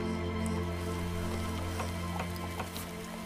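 Steady rainfall in the Starbound video game, a dense even patter with scattered droplet ticks and sizzle-like hiss, continuous throughout with no speech.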